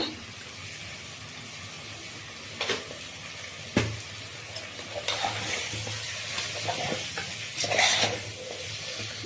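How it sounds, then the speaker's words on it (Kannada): Chicken frying in oil in a pan for a home-style chicken gravy: a steady close sizzle with a few louder scraping stirs, no voices. "ಈಗ ಚಿಕನ್ ಎಣ್ಣೆನಲ್ಲಿ ಫ್ರೈ ಆಗಿದೆ ಸ್ವಲ್ಪ"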